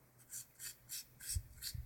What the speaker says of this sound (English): you can tell that everything's even by the way that the nail looks once you've buffed it